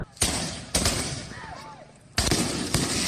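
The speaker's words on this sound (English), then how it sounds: "not an official fireworks show, but right in neighborhood streets" Fireworks set off in neighborhood streets in San Jose on the 4th of July: sharp loud bangs and crackling bursts in irregular clusters, with a distant whistling rocket in between.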